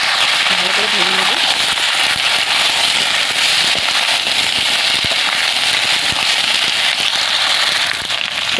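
Chopped bottle gourd stalks, papaya, green banana and potato crackle steadily in hot frying oil, a loud unbroken sizzle, with a brief voice near the start.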